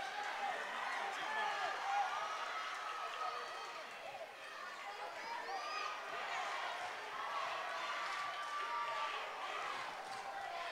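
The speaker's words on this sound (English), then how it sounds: "This crowd's getting into it" A high school basketball crowd in a gym during a tight fourth quarter, Peabody against Greenfield, keeps up a steady roar of cheering and shouting, with a commentator talking over it.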